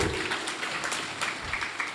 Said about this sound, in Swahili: Tumpigie makofi. Makofi ya nguvu.